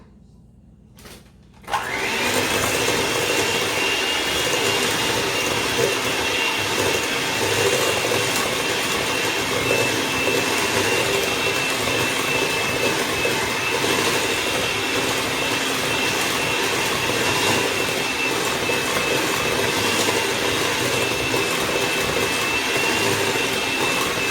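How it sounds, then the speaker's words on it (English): Mango bread batter with oil being whisked, a loud, steady whirring drone that starts abruptly after a quiet moment and runs without a break to the end, close by. "And then you just whisk that together."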